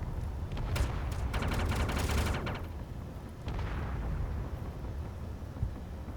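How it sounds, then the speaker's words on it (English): Turrets firing at a ship in the Space Engineers video game, a rapid burst of crackling gunfire for a couple of seconds, then a second rumbling blast trailing off into a steady low background rumble. "I can shoot the ship and it turns on the turrets"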